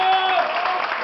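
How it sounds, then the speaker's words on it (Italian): Audience clapping at a dinner show in a restaurant in Vietri sul Mare, a short burst of dense applause that holds steady, with a faint sustained tone running underneath. "Il suocero di Davide, facciamo un applauso anche a lui,"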